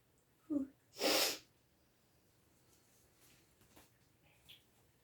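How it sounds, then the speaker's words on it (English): A single sharp sneeze bursts out after a brief intake of breath during a tabletop miniatures game, loud and close, followed by faint rustling and quiet background sounds. "Sneeze."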